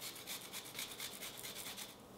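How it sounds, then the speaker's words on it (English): Ginger is rubbed against a grater in a quick, even rasping rhythm of short scrapes, faint and close. "now I'm gonna grate some ginger."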